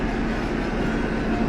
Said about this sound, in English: Here comes our train right now.